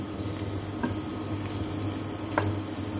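Beef shank sizzling in a hot pan, a steady crackling hiss with a couple of faint clinks, close by and without talk.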